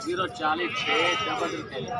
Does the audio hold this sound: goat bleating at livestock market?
yes